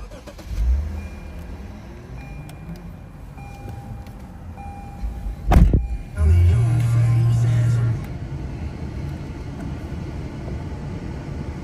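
A 2016 Lexus IS 300 F-Sport starts with a push button: a brief sharp crank near the middle, then a louder, steady low engine idle that settles after a couple of seconds into a quieter background hum.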